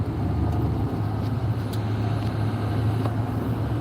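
Steady low rumble of a 2005 work truck with a 6.0-liter Power Stroke diesel, heard from inside the cab while stuck in traffic, with constant road noise layered over the drone.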